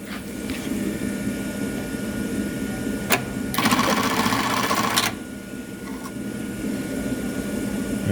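A Juki LK1900BN industrial bar-tack sewing machine tacks belts on a sewing line. Steady machine hum runs under a sharp click, then a loud burst of rapid stitching lasting over a second mid-clip, heard up close.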